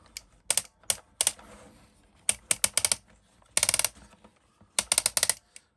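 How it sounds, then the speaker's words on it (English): Ratchet joints on a Transformers Titan Class toy click in quick, crisp bursts of several ticks each, close and fairly loud, separated by short quiet pauses. "Oh, those ratchets are beautiful."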